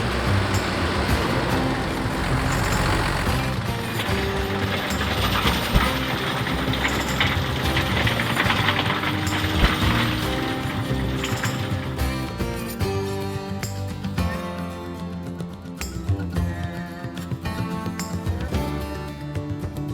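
A tractor pulls a 40-foot Salford HSD tillage tool in 12th gear through heavy corn residue. Its loud, continuous engine roar comes with steady mechanical rattling and clanking, heard close throughout.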